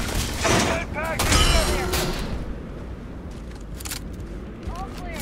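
Gunfire in the space shooter game Starfield, with dense bursts of rapid shots and booming impacts up close that ease into sporadic distant pops. Voices speak over the fighting.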